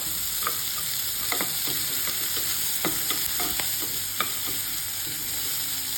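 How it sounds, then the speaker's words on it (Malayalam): Sliced onions sizzle and fry steadily in a pan for vegetable pasta sauce, with intermittent scraping clicks of a spoon stirring them, close and continuous with no talk. "സവാളയുടെ ഇങ്ങനെ ഓരോ അല്ലി അടർത്തി മാറ്റി കൊടുക്കാൻ ശ്രമിക്കണം ഇങ്ങനെ ഇളക്കുമ്പോൾ."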